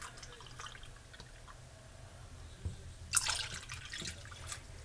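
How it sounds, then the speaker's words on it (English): Faint, quiet setting with a brief splash and trickle of soy sauce being poured into a bowl for beef jerky marinade, followed by a few small drips. "I'm going to add 1 cup of soy sauce to both."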